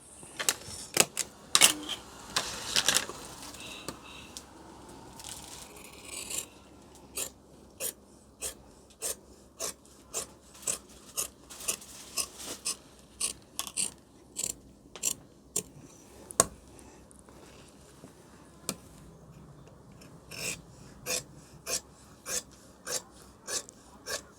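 Scissors snip through pant fabric while cutting out the front panel of a two-pleat trouser, giving a long run of short, sharp rasping cuts in a steady rhythm, close and fairly quiet, with no talking.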